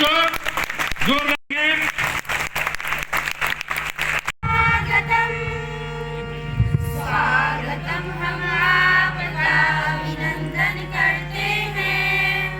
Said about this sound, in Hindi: आप लोग ताली बजाएंगे बच्चों,